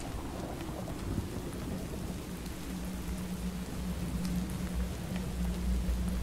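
Thunderstorm in the survival video game From The Fog: steady hiss of rain with low rolling thunder rumbling underneath, continuous and moderately loud throughout, with no talking.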